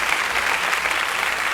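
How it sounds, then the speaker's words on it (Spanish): A church congregation applauds together, a dense steady wash of clapping that holds even and fairly loud from start to finish with no voices on top. "Si estás recibiendo esta palabra, dale un aplauso al Señor."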